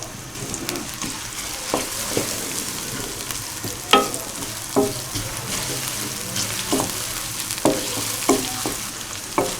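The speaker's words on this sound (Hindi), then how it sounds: "प्याज फ्राई हो रहे हैं" Chopped onions frying in about a cup of oil in a kadai, a steady hiss with scattered clinks and scrapes of stirring throughout, fairly close and with no voices.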